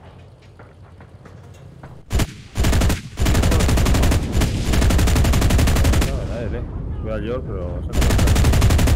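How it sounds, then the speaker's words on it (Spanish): Gunfire in the online shooter Enlisted: loud, dense bursts of rapid shots erupt after a brief pause and keep going almost nonstop, with a player talking over them. "ahí me están disparando"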